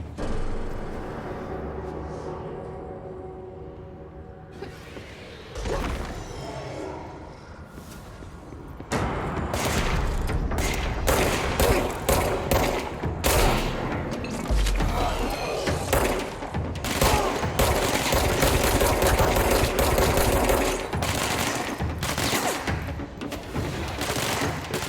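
Rapid gunfire in the video game Control, dense continuous volleys of loud shots that build to near-constant fire, with game effects layered beneath.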